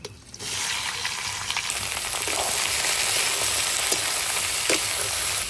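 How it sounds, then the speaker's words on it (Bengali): Sliced onion fries in hot oil with whole spices, dried red chillies and bay leaves, a steady close sizzle that swells after a quiet start, with occasional stirring knocks and no talking. "পেঁয়াজটাকে ভেজে নেবো"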